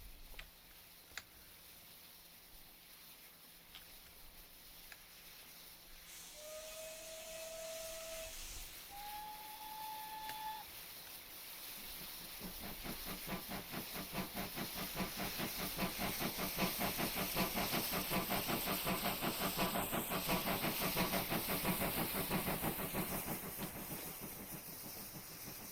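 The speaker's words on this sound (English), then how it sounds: "And still the engine's blowing off." Steam locomotive on the North Somerset Railway in Train Simulator 2021 blowing off steam, a sustained loud hiss rising over rhythmic chuffing, with two short whistle tones early on.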